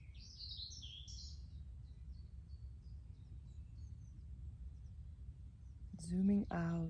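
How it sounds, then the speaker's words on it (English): Faint, high birdsong chirps in short phrases over a low background hum, fading out before a voice speaks briefly at the end. "Listen to the birds singing."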